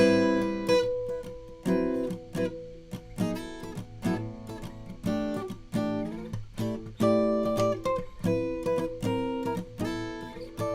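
Clean guitar strums a short sequence of rootless jazz chords, a 2-5-1 in G, each struck and left to ring before the next, played close and unaccompanied.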